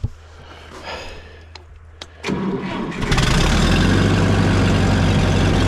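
A Minneapolis-Moline U302 tractor engine cranks with a couple of sharp catches, then fires and settles into a loud, steady, rough idle that runs on continuously.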